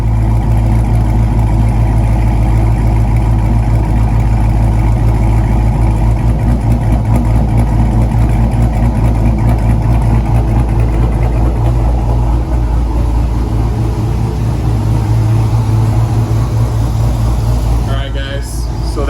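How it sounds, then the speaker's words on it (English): A Dodge Charger engine idles with a loping rhythm, a steady deep rumble that stays close and loud throughout, briefly disturbed near the end. "Starting to hear that lope now."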